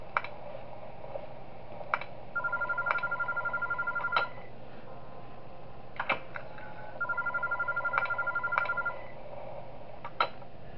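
Phone dialing inside the horror game Those Nights At Wario's 3: sharp key clicks and two stretches of steady ringing tone on the line, with a few more clicks between them. No voices, and the sound sits at a moderate, even level.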